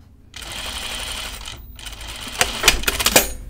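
A sewing machine stitches dress fabric for a tea house dress, running in a steady continuous whir that pauses briefly midway, then resumes with sharper clicking bursts toward the end.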